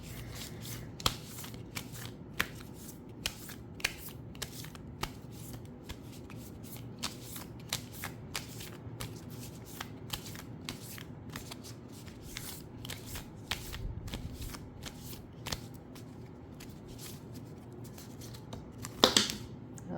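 Tarot cards being shuffled by hand, a quiet run of crisp, irregular riffling taps and flicks spread across the whole stretch, with a louder flurry near the end and no talk.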